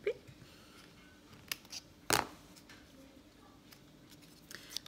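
Scissors snip through a piece of ribbon while a bow is tied, a few quiet, isolated cuts with one sharper snip near the middle, set against a faint room hush.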